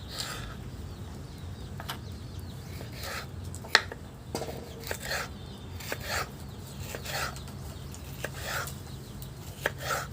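Vegetables are chopped for homemade Indian street-style chicken noodles: a knife taps down on a board in a loose, repeated rhythm of sharp, close strikes over a soft background, with no talking.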